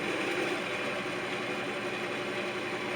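A wood lathe spinning a chestnut oak bowl blank at about 910 RPM, with a 5/8 inch bowl gouge nearby, giving a steady, close mechanical drone with a slight vibrating hum throughout.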